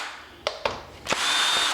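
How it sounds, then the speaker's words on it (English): A power drill whirs in short bursts, two quick blips then a sustained loud run, backing screws out of a washing machine's transmission housing during a repair, close up with no talking. "and then we just have to take off these screws."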